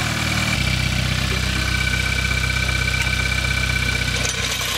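A warmed-up Hyundai Veloster engine idles loudly and steadily up close, a constant deep rumble with no voices over it.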